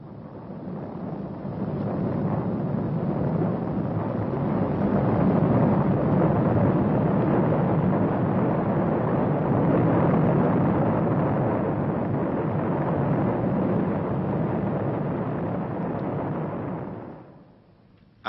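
An avalanche of snow after heavy snowfall, a long, loud, continuous roaring rumble like thunder that swells, holds steadily for over a dozen seconds, then fades away.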